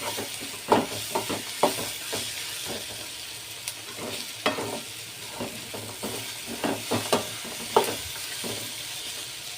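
Chili powder frying in hot oil for Belgaum-style sweet corn upma, a loud close sizzle broken by repeated scraping strokes of a spoon against the pan, steady throughout with no voices.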